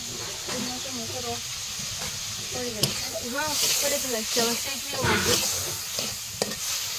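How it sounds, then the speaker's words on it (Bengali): Fish fries in hot oil seasoned with chili, salt and turmeric, giving a steady soft hiss and sizzle, while someone talks over it close by. "এই যে মাছ এখন ভাজা দেওয়া হচ্ছে তেলের পর, একটু ঝাল লবণ হলুদ দিয়ে।"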